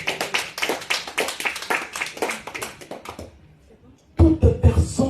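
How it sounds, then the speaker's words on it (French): A church congregation claps in a fast steady rhythm at a Sunday service, loud and full, then breaks off briefly before a burst of louder clapping and cheering starts up again. "Acclamons pour la gloire"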